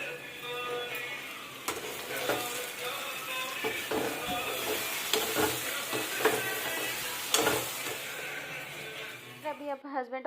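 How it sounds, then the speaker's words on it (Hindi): Idli fry in a mustard seed and curry leaf tempering, giving a steady close sizzle with scattered stirring clinks. A voice talks over it, and the frying fades near the end. "उसको मैं सिंपल राई और करी पत्ते के तड़के से ही बस फ्राई करूँगी"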